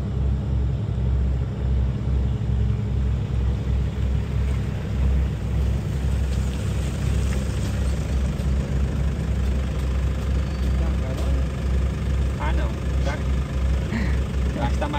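A vehicle engine labors and accelerates on a very slippery dirt road, a steady low rumbling drone held close and loud throughout, with people talking over it.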